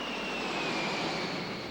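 Jet airliner engines roar steadily and evenly throughout, a continuous broad hum with a thin high whine riding on top.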